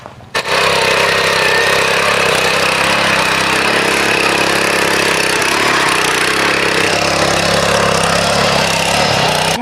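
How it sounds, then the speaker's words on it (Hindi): A powerful 7.75 HP Italian turbo engine on an R-111 farm machine runs steadily and loud, a dense continuous roar after a brief start, preparing vegetable fields. "इस तरीके से ये पावरफुल मशीन काम कर रही है"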